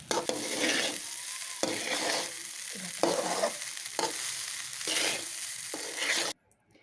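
Fried rice is heated and stirred in a pan, with a steady sizzle broken by repeated rhythmic scraping stirs, close and fairly loud, with no talk.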